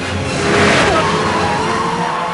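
A loud Lamborghini Murciélago LP640 engine roars and revs, swelling briefly then holding a rough, throaty drone nearby.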